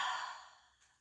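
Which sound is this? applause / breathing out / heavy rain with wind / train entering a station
breathing out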